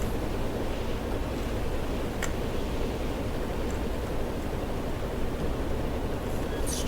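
Ocean waves wash steadily around a ship in the video game StormWorks, a continuous dense surf and wind roar that holds at an even level throughout, with no voices over it.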